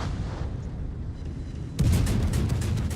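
Minotaur cruiser anti-aircraft guns firing in World of Warships, a steady rumbling barrage of rapid muffled booms that jumps louder and denser partway through, continuous with no pauses.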